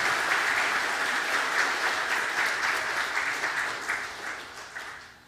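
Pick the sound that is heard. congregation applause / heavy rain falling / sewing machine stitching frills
congregation applause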